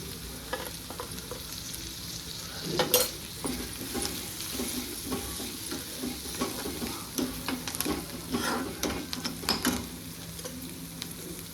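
Egg bhurji made with four eggs, coriander and turmeric sizzles in a pan while a utensil scrapes and stirs it in repeated strokes, close and steady, with no speech.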